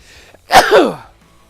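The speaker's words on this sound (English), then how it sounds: "Oh, hold on, I gotta sneeze." A single loud sneeze bursts out close by, a sharp explosive blast that trails off quickly into quiet.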